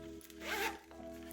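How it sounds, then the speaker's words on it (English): A zipper on an Alpaka Tech Case Mini with red-orange 200-denier nylon ripstop runs smoothly as the main compartment opens. It sounds as one quiet, close, continuous zip lasting under a second, followed by a faint click, with no talking. "You see how smoothly these zippers go around the corners?"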